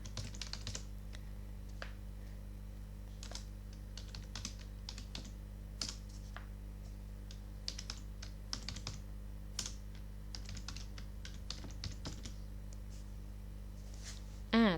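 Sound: typing on a computer keyboard into Excel

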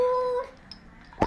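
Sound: dog howling

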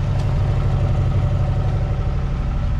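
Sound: old V8 engine running

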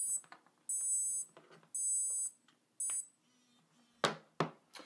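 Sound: ChargerLeash charger leash alarm sounding

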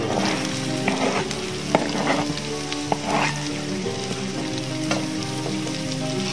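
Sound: onions sizzling as they are added to frying masala

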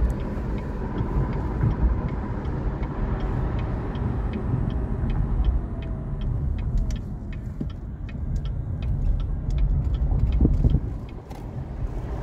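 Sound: car driving on the road

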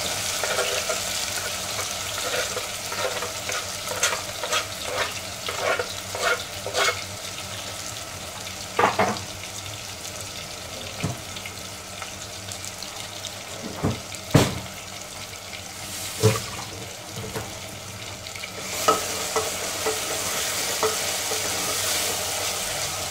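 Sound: chopped onions frying in hot oil

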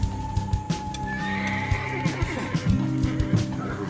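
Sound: horse neighing and clip-clopping

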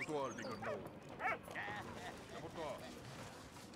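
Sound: dog barking and whimpering in a video game

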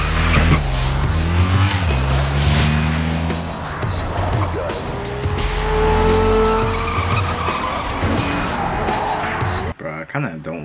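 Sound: car chase with tires skidding in movie Romeo Must Die

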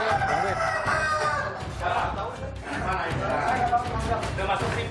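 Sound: rooster crowing

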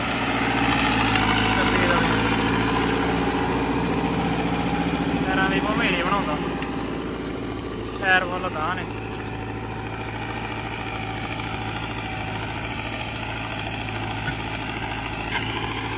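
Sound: tractor engine idling, model 6055

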